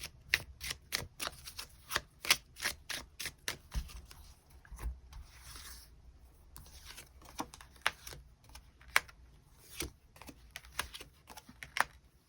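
Tarot cards are shuffled and drawn by hand, a close series of crisp riffling snaps and flicks in irregular bursts, with brief softer sliding between them and no talk.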